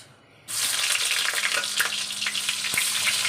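Onion and nigella seeds dropped into hot oil burst into a loud, steady sizzle after a brief quiet start, with a few crackles and utensil taps, close by and without speech.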